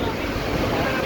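Strong wind roars steadily in the background during a nighttime rainstorm, a dense, rushing wash with a rain-like hiss throughout, fairly loud and close to the microphone.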